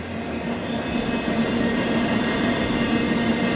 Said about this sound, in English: Holy cow, that's a long train.